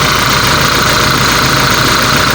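The vacuum motor of an aircon refrigerant recovery machine runs with a loud, continuous droning hum, pulling vacuum during a Toyota Hilux aircon compressor replacement.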